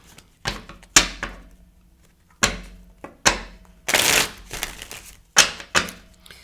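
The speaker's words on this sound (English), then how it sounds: "I'm just shuffling." Tarot cards shuffled by hand during a psychic reading, giving a run of sharp riffling bursts and soft slaps in uneven groups, close and fairly loud with no talk.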